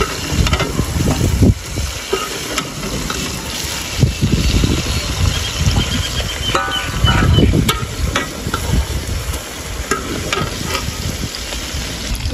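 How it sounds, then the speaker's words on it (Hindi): Fish sizzles steadily in a hot frying pan, with bursts of crackling oil and occasional stirring clatter in close, continuous frying. "मैंने आधी मच्छी फ्राई कर लिया, बाकी आधी रहती है"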